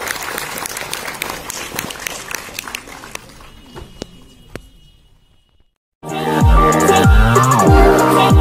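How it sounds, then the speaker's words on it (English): Audience applause for a young award winner being honoured for a top exam rank, loud dense clapping from a crowd that fades away to near silence before a different, tonal sound cuts in. "A big round of applause for this young star"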